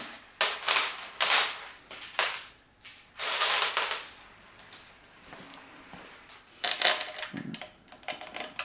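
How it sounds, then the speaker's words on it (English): Bolts are driven into an Audi RS3 engine being rebuilt, a close series of bright metallic clicks and ratcheting bursts in uneven runs with brief pauses. "Let's bang a couple of bolts in"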